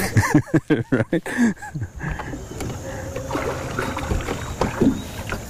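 A small fishing boat scrapes and grinds onto shore with a few heavy thumps, then a steady rumbling drag over gravel, outdoors and close.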